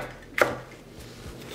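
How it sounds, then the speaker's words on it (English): A knife roughly chopping garlic, long chilies, a habanero and sweet peppers on a cutting board, two crisp knocks about a second apart, close and clear with quiet in between. "Give them a rough chop before we put them into the food processor."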